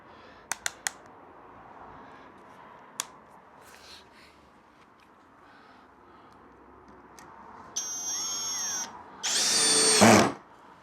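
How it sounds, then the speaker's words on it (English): A cheap brushless drill driver drills in two short, loud whining bursts near the end, after a quiet stretch broken only by a few sharp clicks. "So just let's drill a few more in."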